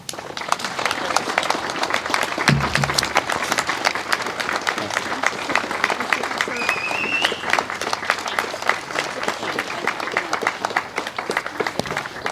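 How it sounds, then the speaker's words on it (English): An audience at a Veterans Day event in a high school gives sustained applause, with dense clapping filling the room at steady loudness for about twelve seconds. "Another round of applause for Lieutenant Colonel Hartline."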